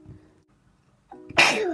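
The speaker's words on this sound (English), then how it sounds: "You're gonna sneeze again." A girl sneezes once, loud and close: a faint intake of breath, then a sharp burst that trails off quickly.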